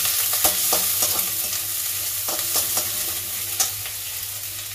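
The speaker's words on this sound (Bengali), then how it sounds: "আর পেঁয়াজটাকে আমি লাল করে ভাজবো।" Chopped onions sizzle steadily in a pan as they fry until reddish-brown, with a few sharp clicks and scrapes of a spatula stirring them, close and without talk.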